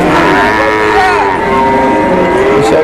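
A cow moos loudly and close by at a village cattle market in Manikganj, one long drawn-out bellow with a shifting pitch, with crowd noise faintly underneath.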